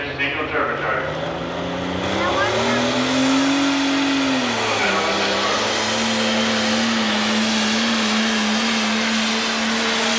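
A 1066 pulling tractor with a single turbocharger roars at a 1989 tractor pull, a loud sustained engine drone whose pitch climbs, dips, then holds steady as the run goes on.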